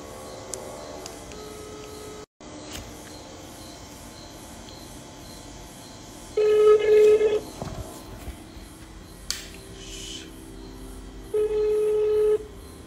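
A phone places a call: short dialing tones, then two longer ring tones spaced apart over a quiet room hum, with a brief dropout early on.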